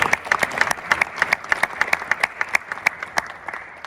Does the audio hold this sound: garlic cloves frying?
no